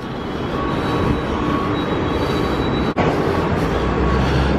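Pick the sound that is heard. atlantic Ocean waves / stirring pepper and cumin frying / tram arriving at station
tram arriving at station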